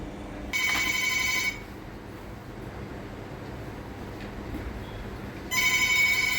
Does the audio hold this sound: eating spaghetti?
no